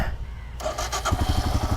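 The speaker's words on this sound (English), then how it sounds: "So that's the engine sound." A Royal Enfield Himalayan motorcycle engine at 35,000 kilometers cranks and catches after a brief quiet moment, settling into a steady, close-up idle with rhythmic low thumps.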